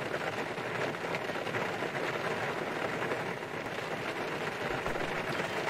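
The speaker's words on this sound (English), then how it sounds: "the rain is loud." Heavy simulated rain from X-Plane 11 with the xEnviro weather add-on, a dense, steady loud hiss that continues without a break for the whole stretch, with no voices over it.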